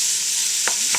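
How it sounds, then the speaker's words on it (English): Ground hamburger meat sizzles in a hot pan for chili, giving a constant close hiss with a couple of quick scraping stirs and no talking. "You can see it sizzling away there."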